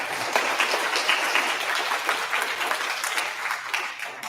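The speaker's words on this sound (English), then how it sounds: "A big round of applause as well." Audience clapping at a fifth-grade DARE graduation ceremony in a school, a dense burst of applause that holds steady then gradually thins out.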